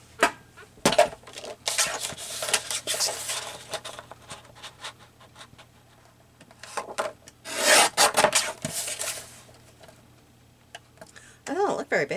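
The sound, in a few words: small hand trimmer trimming wood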